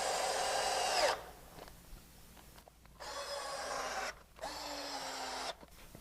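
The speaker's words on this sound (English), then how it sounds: "Then we'll put 2 screws in each joint." A power drill drives screws into an angled wooden joint in two or three bursts, each a steady whirring buzz lasting about a second or more, with short quiet gaps between them.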